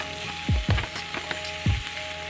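Shrimp sizzle in a hot pan with a constant crackling hiss, broken by a few low thumps as pieces hit the surface or are stirred.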